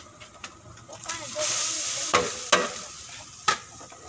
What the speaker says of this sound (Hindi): अब हम चावल डालेंगे।